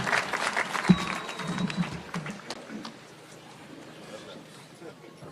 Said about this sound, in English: a round of applause to His Excellency the President